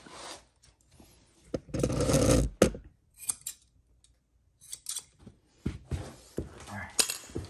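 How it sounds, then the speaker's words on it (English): Close scissors snip and crunch through thick carpet in uneven bursts, with one longer grinding cut followed by scattered short clicks. "Take my scissors if I need to."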